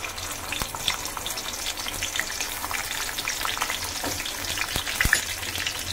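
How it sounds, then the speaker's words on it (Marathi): Whole capsicum peppers frying in hot oil give off a dense, continuous sizzle with sharp crackles and pops, heard up close and steady throughout. "आता आपण तेलामध्ये मिरची टाकून घेऊया"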